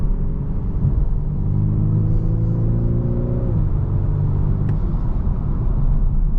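A 2024 BMW 430i Coupe M Sport engine in sport mode pulls up through the revs with a rising hum, drops off abruptly partway through, then carries on at a lower, steady drone.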